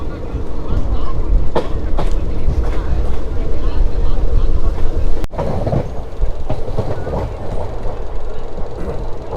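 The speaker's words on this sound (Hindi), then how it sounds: "अब ट्रेन ने स्पीड लेना शुरू किया।" A Gurgaon local train gathering speed, with a loud steady rumble and clickety-clack of wheels on rails heard from inside the carriage, and a sharp knock partway through.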